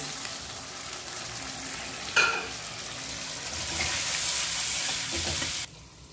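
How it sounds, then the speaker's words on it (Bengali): Masala spices frying in a pan with a little water, a steady close sizzle with a sharp hiss as the water goes in, swelling louder before cutting off abruptly, with no talk. "এই মশলাটা আমি এখন ভালো করে কষিয়ে নিচ্ছি।"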